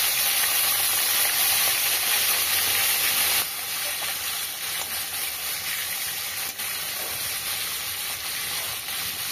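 Hilsa fish heads sizzle and hiss in hot mustard oil, a loud, steady frying crackle that eases slightly after a few seconds, with no voices.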